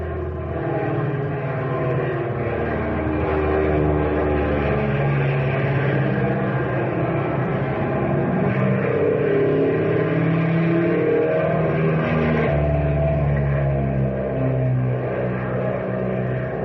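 An airplane engine sound effect from an old radio drama drones loud and steady throughout, a continuous rumbling roar with slight shifts in pitch and no pauses.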